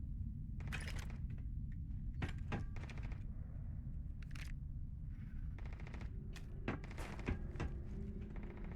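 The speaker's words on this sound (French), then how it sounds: "il y a un truc qui tire là quelque part là" Gunfire in the video game Starfield: sharp reports and bursts at irregular intervals, some single shots, some clustered, over a steady, loud rumbling game ambience, without talk.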